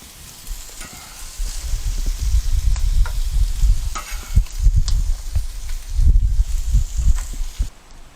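A Reuben sandwich fries on a grill under a bacon press with the lid on, a steady close sizzle with soft low crackling bursts and no talk.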